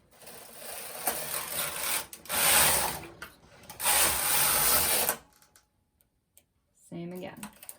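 Carriage of a knitting machine swept across twice while working rows during partial-knit neckline and shoulder shaping, each pass a loud rattling, clicking whoosh lasting about two seconds, with a brief voice afterwards.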